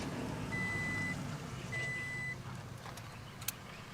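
Two steady electronic beeps, each about half a second long, from a Toyota Tacoma pickup's door-open warning sound over a low idling engine rumble, followed by a faint click.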